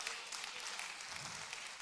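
Faint, distant applause from a convocation ceremony audience forms a steady, even wash of clapping with no clear individual claps.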